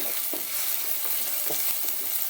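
Egg masala with tomato frying in a pan, a continuous close sizzle with soft stirring scrapes recurring every half second or so.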